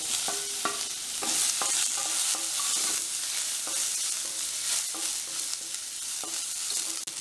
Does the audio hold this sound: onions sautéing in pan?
yes